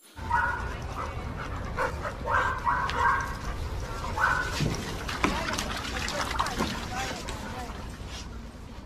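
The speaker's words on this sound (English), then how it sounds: "D for dog." A dog barks a few times within a children's ABC phonics song, the yaps set against steady singing voices and music throughout.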